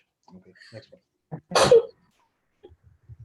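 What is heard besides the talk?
sneeze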